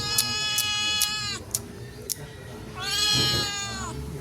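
Several clear meows from kittens, fourth-generation offspring of a house cat, come close by in a quick run of short calls and then one longer drawn-out cry, with some faint background rustle.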